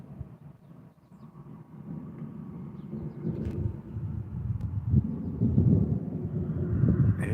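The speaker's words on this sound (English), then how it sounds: "It's thundering over there." Thunder from an approaching storm rolls in a long low rumble, starting faint and swelling louder toward the end, distant and continuous with some wind.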